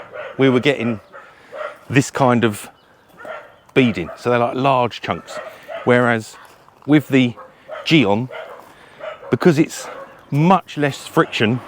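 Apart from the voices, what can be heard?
dogs barking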